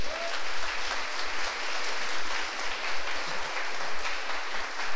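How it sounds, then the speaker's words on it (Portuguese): A church congregation applauds during a sermon, sustained loud clapping from many hands with a roomy, even texture throughout. "Aplauda aí ao Senhor Jesus."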